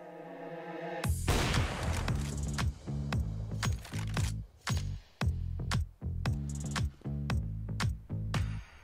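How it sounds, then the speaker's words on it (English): Rapid gunfire from CS:GO on the Nuke map, shooting through walls toward the mini room: bursts of sharp, loud shots in uneven rhythm, with a few short pauses between volleys. "then shoot towards the mini room"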